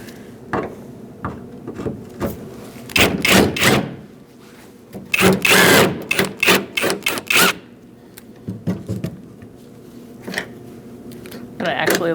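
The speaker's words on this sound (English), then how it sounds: "Now we're going to remove these 3 bolts." A 10mm socket backs out bolts holding the tailgate handle on a 2004-2012 Chevrolet Colorado, heard as close, clustered bursts of rapid ratcheting clicks separated by quieter pauses and light handling noises.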